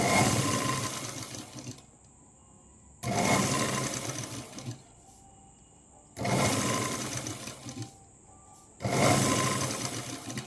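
A sewing machine runs in three loud stitching bursts of a few seconds each, separated by quiet pauses, while sewing a folded seam on a Punjabi dress.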